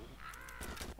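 A crow caws once in the video game Kurka Wodna 2, a short raspy call with a downward-bending tone, near and fairly clear over faint background game noise.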